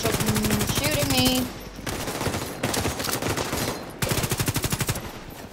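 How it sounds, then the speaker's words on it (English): Rapid automatic gunfire in a shooter video game rattles in dense, loud bursts with short pauses between them, close and continuous. "They're shooting me."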